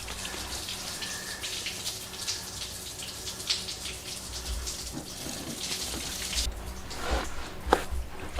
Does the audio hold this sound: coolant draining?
yes